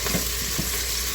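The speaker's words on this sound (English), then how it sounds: "Got a little browning on them." Food browning in an Instant Pot sizzles and crackles in a continuous, steady frying hiss, close and fairly loud.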